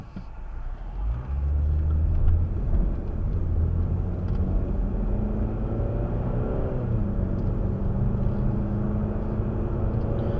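A car fitted with a Z-Edge Z3 Pro dual-lens dash cam drives along, its engine and road rumble steady and fairly loud throughout after a brief quieter start, with no talking.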